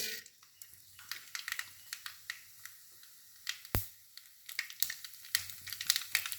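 Mustard seeds crackling and popping in hot coconut oil while tempering for coconut rice, irregular sharp pops over a soft sizzle that grow busier toward the end.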